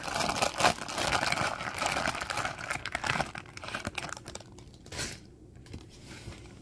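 A plastic bag of Lego pieces is torn open and handled, making close, busy crinkling and rustling that trails off into a few sparse rattles.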